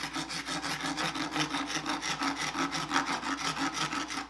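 A hand rasp works the surface of a sculpture formed on an armature, giving a steady series of rhythmic scraping strokes, close and moderately quiet, with no talking.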